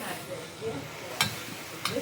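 Asparagus sizzles faintly in a chicken stir-fry pan as it is stirred, with a quiet frying hiss broken by two sharp scraping clicks from the utensil.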